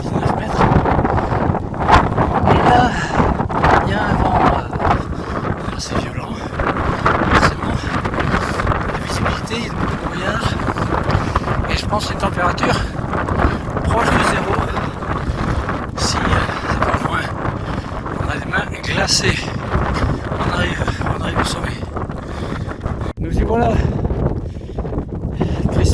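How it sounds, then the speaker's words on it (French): Strong wind buffeting the microphone near the summit of Mont Finiel on the Stevenson trail, a loud, continuous broadband roar with gusty surges throughout. "Et là, il y a un vent"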